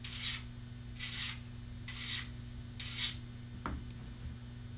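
A hand file drawn across a Woodsman broadhead edge, four evenly spaced rasping strokes about a second apart, close and clear over a low steady hum, ending with a small tap.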